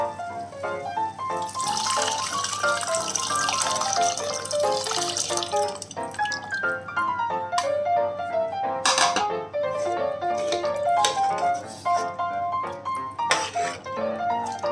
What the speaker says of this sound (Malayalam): ആ പുളി നമുക്ക് പിഴിഞ്ഞത് വെള്ളം ഒഴിച്ചു കൊടുക്കാം അതിലേക്ക്